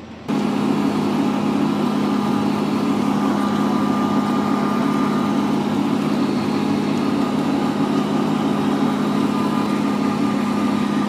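A tractor hauling a manure spreader set to its slow speed while cleaning out a barn lot, a loud, steady engine drone that starts abruptly and holds constant throughout; no voices.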